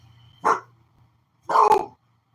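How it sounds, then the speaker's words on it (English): Two loud, sharp dog barks close by, about a second apart, with quiet between them. "Stop barking now."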